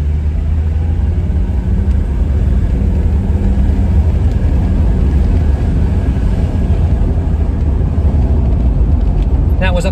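A 1980s diesel Mercedes accelerating after slowing for a speed bump, heard from inside as a loud, steady low engine rumble that drones throughout without clear revving peaks.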